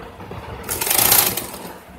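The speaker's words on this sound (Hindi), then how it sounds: "इस तरह से मोड़ते हुए इस पर हम सिलाई कर लेंगे" A sewing machine stitches a folded black velvet skirt hem, a short close whirring run of rapid needle strokes of about half a second, set between quiet pauses.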